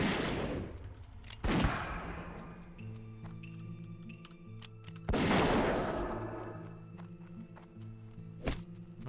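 Two heavy gunshots from a dwarf hunter's gun in World of Warcraft Classic, roughly three seconds apart and each decaying into a short tail, followed by a sharper thud near the end over a steady ambient game hum.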